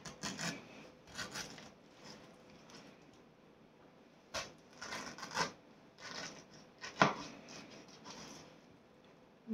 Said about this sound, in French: On prend la pointe du couteau et on va découper un rectangle.